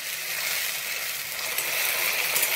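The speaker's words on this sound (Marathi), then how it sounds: "मोठ्या आचेवरच त्याला फ्राय करायचं आहे" Tomato puree fries on high heat for chana masala, a loud, continuous hiss, steady and close, with no talking.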